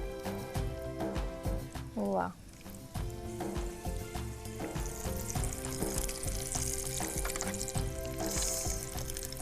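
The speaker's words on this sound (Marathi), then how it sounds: "तूप व्यवस्थित तापलंय आपण एक एक एक एक ते तळून घेऊ अगदी शॅलो फ्राय करायचे आपल्याला" Peanut, cashew and sesame rolls shallow fry in hot ghee with a steady, close sizzle that runs throughout, broken by brief clinks and stirring, with someone talking over it.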